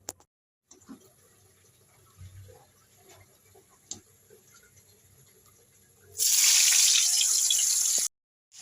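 Tap water gushes loudly and steadily for about two seconds near the end as food, bottle gourd and shrimp for a home curry, is rinsed under it, following a quieter stretch of faint kitchen clinks and knocks.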